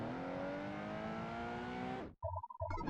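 A Ferrari 250 GTO engine in the Project Gotham Racing 2 video game roars loud and steady with rising revs for about two seconds, then cuts off abruptly, leaving a few brief electronic game tones.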